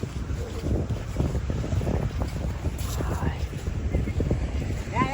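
Wind blowing at the seashore, a steady rushing gust buffeting the microphone with a low rumble. Surf and a moving boat come through beneath it, and a person talks intermittently over the top.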